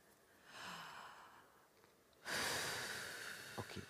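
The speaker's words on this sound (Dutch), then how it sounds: "Doe je het eens voor met de ademhaling?" A breathing exercise demonstrated during a singing workshop: a long audible inhale followed by a strong, forceful exhale, close and breathy, with a few small sniffs or clicks at the end.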